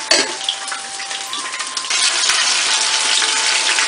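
Two eggs frying in a pan give a steady bright sizzle that swells louder after a couple of seconds and continues evenly, close and alone without talk.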